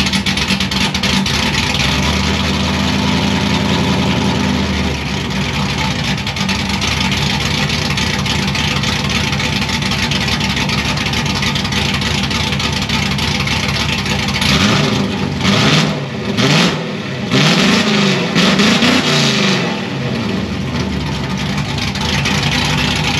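Modified 4.8 Mustang GT engine running with over-the-axle exhaust pipes, a loud, rough idle building into several throaty revs toward the end, close and continuous without speech.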